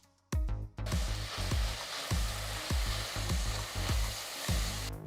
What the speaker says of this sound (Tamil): நாலு பச்சை மிளகாய கீறி சேர்த்துடலாம்